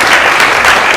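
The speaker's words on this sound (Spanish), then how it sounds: "Un aplauso." An audience applauds at a talk about a war photographer, dense steady clapping, loud and close, filling the whole moment.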